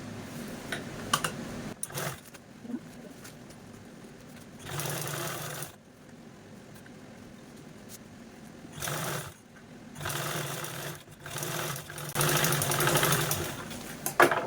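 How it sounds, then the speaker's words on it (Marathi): A sewing machine top-stitches fabric for a storage bag made from a blouse piece, running in several bursts of steady rapid stitching separated by short pauses, close and clear with no talk. "आपल्याला यावरती पुन्हा अशा प्रकारे टॉप स्टिच देऊन घ्यायची आहे"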